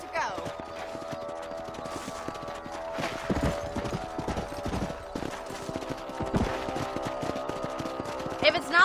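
Horse hooves clip-clopping in the video game Red Dead Redemption, a steady rhythmic trot close by, with distant gunfire-like bursts and a voice talking over it.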